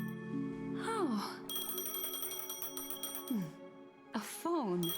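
A phone in the Honkai: Star Rail video game rings with bright, repeating electronic tones in bursts. Voices speak over and between the rings.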